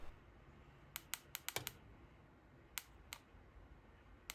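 A Bluetooth keyboard paired with a homemade Windows 10 pocket PC gives a sparse run of sharp keystroke clicks, close and crisp, with a quick cluster in the middle and a couple more after a pause. No one speaks.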